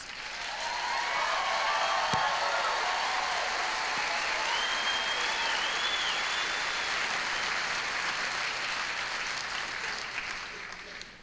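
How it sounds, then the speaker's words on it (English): Sustained audience applause at a Native American Music Awards ceremony, a dense steady wash of many clapping hands lasting throughout, with faint crowd noise and a brief voice or whistle tone riding above it. "another big round of applause for Frederick Whiteface."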